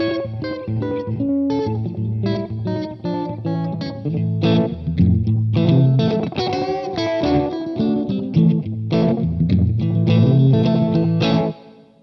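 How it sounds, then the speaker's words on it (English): An electric guitar played through a Gokko Magrane Echo Machine pedal set to a short single-repeat slapback echo. Loud, driven chords and picked notes run continuously for twelve seconds, and each attack is doubled closely. "Really nice slapback echo."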